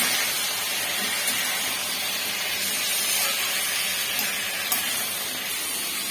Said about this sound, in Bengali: বন্ধুরা এবার এগুলো একটু নেড়ে নেব